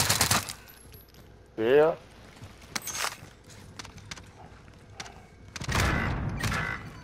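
Game gunfire in Call of Duty on a shipyard map, several short broadband bursts with a louder sustained volley near the end, heard under excited player chatter.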